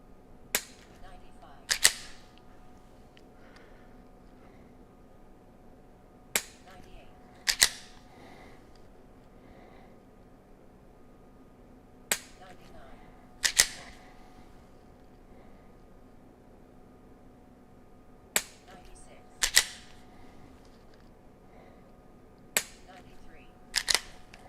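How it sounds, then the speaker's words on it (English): Dry-fire trigger presses with a Mantis X training sensor, heard as sharp, isolated clicks arriving singly or in quick pairs every few seconds against a quiet background, loud and close. "I've got to press 5 trigger presses here"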